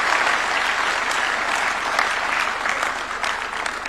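A live audience breaks into a round of applause, sustained and fairly loud clapping from a sizeable group that carries on evenly for about four seconds with no voices on top.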